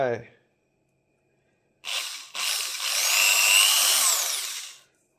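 A brief voice, then silence before a power drill whirs up loudly while working on a toy cap gun, revving steadily for a few seconds and then stopping.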